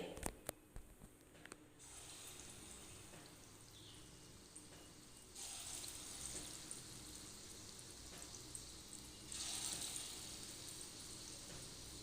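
Lentil fritters frying in hot oil over a high flame, a steady soft sizzle that swells louder as more batter goes into the pan, close and continuous.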